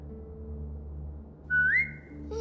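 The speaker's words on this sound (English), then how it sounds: "Now whistle and tell her to lie down." In The Walking Dead video game, a single short rising whistle cuts through a quiet bed of low background music. It is given as a command to a well-trained dog.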